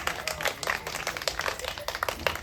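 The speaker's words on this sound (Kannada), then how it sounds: "ಆಕ್ಷನ್ ಚಪ್ಪಾಳೆ." Rapid, uneven clapping from a few people during a playful saree-draping session, a continuous patter of close hand claps with no one speaking.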